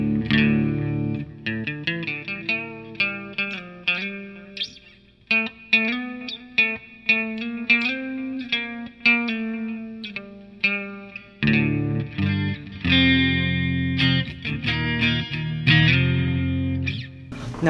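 Electric guitar played through a NUX MG100 multi-effects amp on a distortion preset, loud and sustained with chorus and echo, chords and notes ringing out in bursts with brief gaps, no voices.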